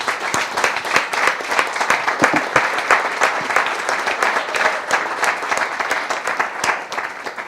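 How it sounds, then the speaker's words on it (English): An audience at a developer meetup applauds its guest speakers, a lively round of many hands with sharp individual claps standing out, tapering off near the end. "so let's give them a big round of applause, please"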